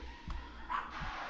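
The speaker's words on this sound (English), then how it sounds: "Having a bit of a cathartic little barking spell." Pet dogs let out a couple of short, muffled barks and yips, faint in the background of a quiet room.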